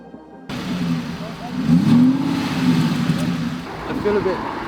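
An Aston Martin V8 Vantage engine idles, then swells into a loud rev and settles back to a steady running note, close by, with people talking over it.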